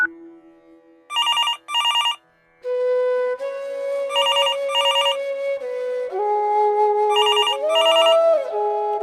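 A telephone ringing alone in repeated double bursts of bright electronic ringing, with steady tones in between, clear and close throughout.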